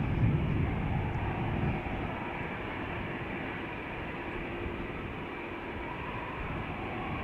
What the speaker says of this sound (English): CRJ coming this way.